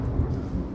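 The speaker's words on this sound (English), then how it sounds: "Ooh, it's a Texas rainstorm. Texas thunderstorms." Thunderstorm in Texas with steady rain and a low, continuous rumble of thunder, a close, even wash of sound with no voices.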